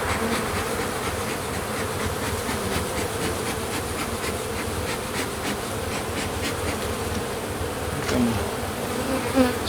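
Honey bees crowding the frames of an opened hive hum in a thick, continuous buzz, close and fairly loud, with light rubbing and handling noises mixed in and a slight swell near the end; no speech.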